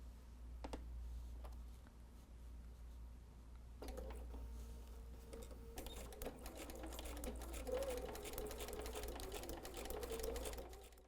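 A sewing machine runs a tight straight stitch along quilt lines for a Kimberbell mystery quilt, sounding as a steady, fairly quiet mechanical whir over a low hum that grows a little busier partway through, with no talking.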